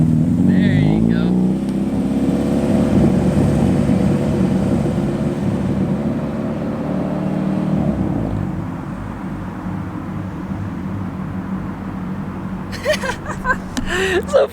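Car engine revving with a Hybrid Racing B & D series shifter, rising and falling motor drone close by, easing off midway before sharp bursts near the end; voices talk over it.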